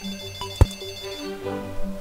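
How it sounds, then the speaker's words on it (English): A phone rings briefly with a steady electronic tone, loud and close, heard alone over a short stretch. "phone call. Be right back."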